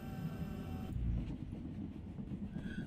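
A video game train rolls past with a steady, moderately quiet rumble and faint rhythmic clatter, a brief louder thump near the start.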